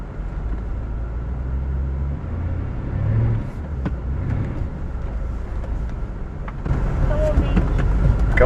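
A truck crawls along a desert offroad trail in four-wheel drive, its engine a low continuous rumble with wind buffeting, swelling louder near the end, while people talk inside the cab.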